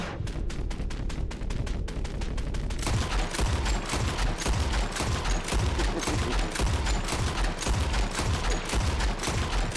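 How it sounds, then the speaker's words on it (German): Gunfire empties a magazine at a puma in the video game Red Dead Redemption 2, a long run of evenly spaced rapid shots that continues at moderate loudness. "Komm, wir machen mal das Magazin leer."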